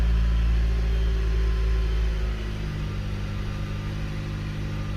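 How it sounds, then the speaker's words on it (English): A 2008 Jeep Compass 2.4L engine idles slightly high close by after a throttle body replacement, dropping to a slightly lower, smoother note partway through and continuing evenly. "It's idling a little high"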